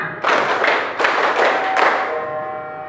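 A class in an Indonesian lesson claps hands in a counted rhythm. Several loud, close bursts of group clapping come at roughly even intervals, then fade into quieter room sound.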